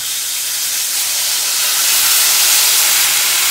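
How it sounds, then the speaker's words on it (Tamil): Tamarind water poured into hot oil in a pan for a temple-style pulikachal: a loud, steady, close sizzle that holds and swells slightly, with no talk. "கேஸை சிம் ஆக்கிட்டு மெதுவாக ஊற்றுங்க."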